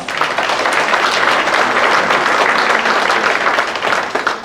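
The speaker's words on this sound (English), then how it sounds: "Let's give them a round of applause." Loud, sustained audience applause for the candidates at a DeSoto candidate forum, dense clapping filling the whole stretch without a break.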